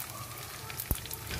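Anchovies sizzle steadily in hot oil for a sambal goreng, with a close, even crackling hiss and one sharp pop of spitting oil partway through.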